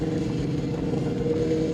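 A motorcycle in America being throttled, giving a steady, close, droning engine hum with a low rumble and no clear rise or break.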